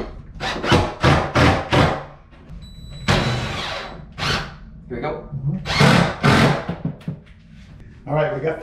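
Power drill driving screws from the back to attach a wide pocket-screwed bathroom face frame, several short buzzing bursts close up with thuds between, mixed with speech.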